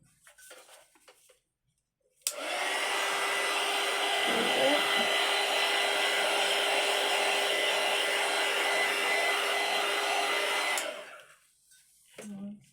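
A torch blasts steadily over freshly poured clear epoxy resin to pop air bubbles, a loud continuous roaring hiss lasting about eight seconds, with brief quiet handling noises before and after.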